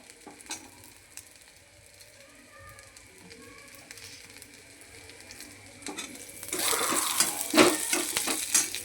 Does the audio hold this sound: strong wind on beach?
no